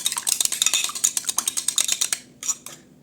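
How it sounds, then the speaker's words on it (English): Egg mixture with oil being stirred in a bowl for pizza dough, a utensil clinking and scraping against the bowl in a quick, steady series of close taps that thins out toward the end. "So before adding, I'm going to stir it a little."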